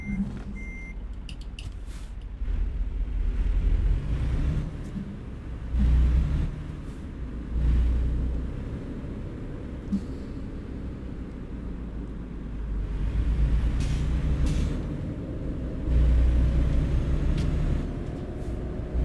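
A big rig rolls along bobtail, without its trailer, in a snowy winter setting in American Truck Simulator, its steady low engine rumble swelling and easing, with a few faint beeps early on and no talking.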